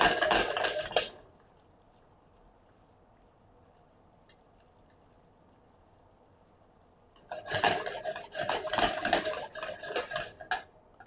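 Shredded cheese and water stirred in a pan for cacio e pepe, giving a short burst of scraping, clinking utensil-on-pan stirring, a quiet pause, then a longer, busier run of stirring and scraping, close and fairly loud, with no talk.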